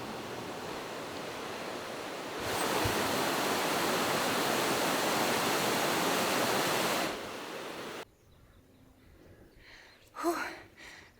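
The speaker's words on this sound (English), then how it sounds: "And look at this river that we're going over." A river rushes below a wobbly suspension bridge on a Nepal mountain trek, a steady broadband roar that grows louder midway, then drops away abruptly, leaving quieter surroundings with a brief breathy sound near the end.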